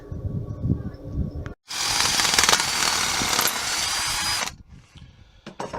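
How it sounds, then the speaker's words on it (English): A power drill whirs loudly and steadily for about three seconds, starting and stopping abruptly, with quieter handling noises before and after, drilling an angled pilot hole in a metal tube before notching with a hole saw. "use this drill to pilot the angle of which you want your cut to be"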